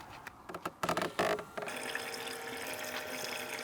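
Diesel fuel pours into the tank of an Ineos Grenadier, a steady rushing liquid flow that starts after a few uneven splashy gurgles and continues evenly, close by.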